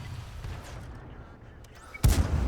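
A tank cannon round slams into an enemy's tracks in a tank video game, a single loud, heavy boom arriving near the end after a stretch of low rumbling battle noise.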